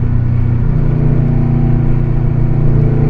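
Stock Subaru WRX STI engine pulling steadily on throttle through turns, a loud continuous droning rumble with a low, even note held throughout and no voices.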